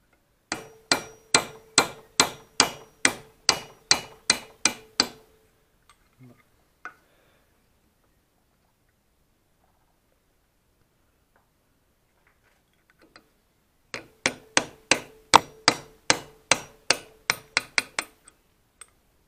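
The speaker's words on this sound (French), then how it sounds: "je l'ai mis dans l'étau et je vais taper là pour tâcher de le défaire" Rapid metallic hammer blows on a part clamped in a vise while restoring a René Gillet 100 cc motorcycle wheel, two bursts of about a dozen sharp, evenly spaced strikes with a few scattered taps and a quiet gap between them.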